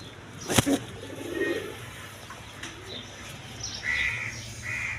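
A pair of large red-coloured Indian Bombay tiger pigeons gives a few low coos at a loft, with a sharp clack and faint birdsong and crow-like calls around them in quiet surroundings.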